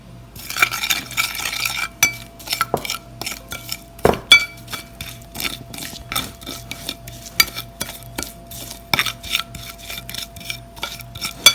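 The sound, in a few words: mixing vinegar into ingredients in a bowl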